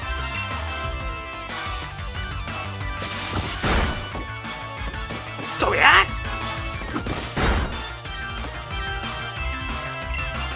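Pokemon Shield battle attack sound effect resembling the move Play Rough, a series of sharp smashing impacts over game music, with a loud burst near the middle and another shortly after.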